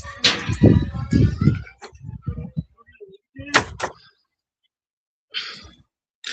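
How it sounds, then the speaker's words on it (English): An indoor door closes with a short thud after people talk nearby, then a couple of faint knocks and rustles in an otherwise quiet room. "Close that door, Nazy."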